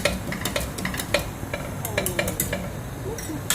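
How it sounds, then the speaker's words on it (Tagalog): Food sizzles in a pan while frying carbonara ingredients, a utensil clicking and scraping repeatedly against it, a close, busy stirring rhythm with steady crackle underneath. "we're going to fry all this together"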